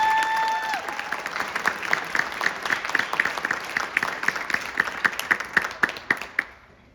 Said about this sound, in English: So another round of applause for these guys.